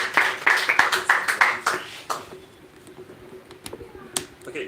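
A small audience at a hackathon training session claps in a brief burst of sharp, rapid hand claps that quickly thins to a few scattered claps and fades.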